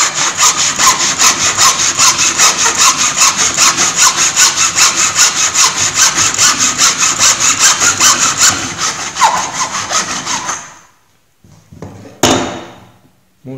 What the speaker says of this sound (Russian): Используем ножовку с мелким зубом. Лучше всего подходит полотно для металла.